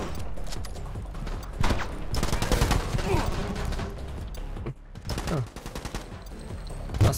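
Gunfire from the shooter video game The Club comes as bursts of rapid automatic shots and single cracks, with mechanical clatter and game sound effects, loud and close throughout.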